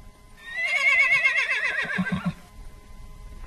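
A horse gives a single loud, close whinny lasting about two seconds, with a wavering pitch, followed by a few soft snorts and faint hoof shuffles.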